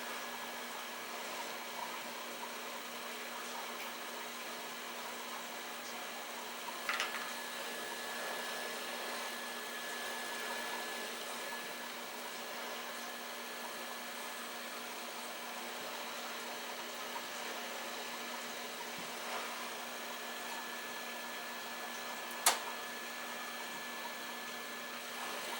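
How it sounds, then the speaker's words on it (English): A hot air station set to 350 degrees blows steadily on a TV board, a faint, even airy hiss with a constant hum that continues without a break, broken only by a few tiny clicks. "Get our heat gun or hot air station."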